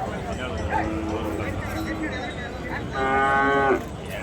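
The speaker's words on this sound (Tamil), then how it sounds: "நாட்டு மாடு தான்." Native breed cattle low repeatedly from nearby, with a loud, drawn-out moo standing out near the end, amid background chatter and a dog's bark at a market.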